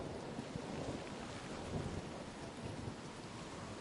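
Thunderstorm with steady heavy rain in the game Wayward Strand, a dense continuous wash of rainfall with low rumbling underneath, even and unbroken throughout, fairly quiet overall and with no voices.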